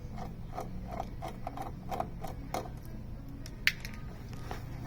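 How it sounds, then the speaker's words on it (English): A tiny T10 Torx screw is unscrewed with a small driver, giving soft repeated clicking and ratcheting ticks close up and quiet, with one sharper metallic tick near the end. "Unscrew the screw."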